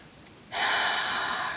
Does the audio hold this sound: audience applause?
no